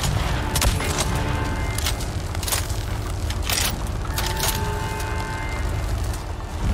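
Sharp gunshots in Avatar: Frontiers of Pandora crack out in scattered bursts, several close together, over a steady background rumble and hum.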